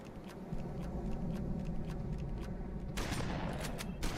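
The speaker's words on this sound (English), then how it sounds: "Shooting my shotgun. I'm crouching. Throw a grenade." Shotgun blasts and a grenade in Halo 2, several sharp close shots over a steady battle din, then a louder burst near the end.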